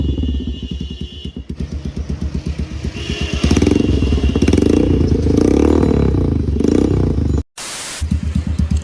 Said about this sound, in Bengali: তো ভাই একটু হলার সাউন্ডটা একটু শোনা যাক।